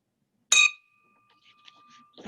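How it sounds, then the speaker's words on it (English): A small bell struck once at a Rotary club meeting, a bright metallic ding that rings on with a long sustained tone, followed by faint murmurs and movement in the room. "Ring the bell for the amphitheater."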